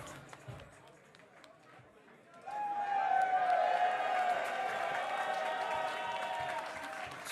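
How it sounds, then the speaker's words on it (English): Wrestling crowd at an Absolute Intense Wrestling event showing appreciation for wrestler MJ Santana, with quiet murmuring that swells into loud sustained applause and cheering, a commentator's voice audible over the noise. "Crowd showing their appreciation for MJ Santana."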